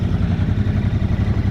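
Motorbike engine running close by on a rural road in Meghalaya, India, a steady pulsing mid-range thrum with rattling clatter as it rides off, with no talk over it.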